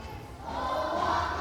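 Children at a local school in the Philippines shout and cheer together, a steady crowd roar that builds slightly louder over the short stretch, heard from nearby outdoors.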